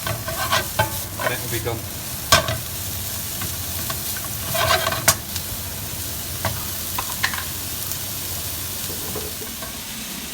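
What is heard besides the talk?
vegetables being stir-fried, sizzling on high heat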